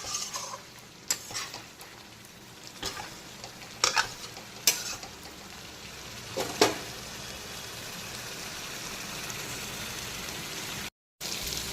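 Potatoes fry in a pan while being cooked for a prawn recipe, a soft steady sizzle broken by several sharp scraping stirs of a spatula against the pan.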